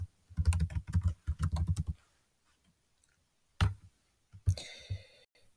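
Typing on a computer keyboard, rapid clicking keystrokes in a dense burst, then a pause and a few scattered later bursts of keys, close and fairly quiet with no talk.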